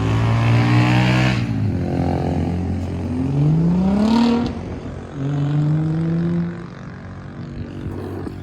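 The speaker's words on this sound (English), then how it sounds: "Local race car stopped by." A loud local race car engine revs repeatedly nearby, its pitch climbing and falling in several throaty bursts with a steady rumble underneath.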